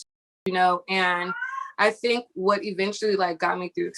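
A pet cat meows indoors during a spoken interview, its short rising cry slipping between the steady, close talk of a woman.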